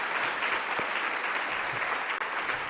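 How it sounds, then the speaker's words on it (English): An audience at a fundraiser gives a big round of applause, a thick, continuous wash of clapping from many hands. It holds steady and fairly loud, with faint crowd murmur beneath. "Give them a big round of applause"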